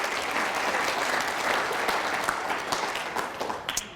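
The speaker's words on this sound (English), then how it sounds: "give yourselves a round of applause for doing that." An audience at an orthodontist study group talk claps steadily for a few seconds, a dense wash of applause that thins out toward the end.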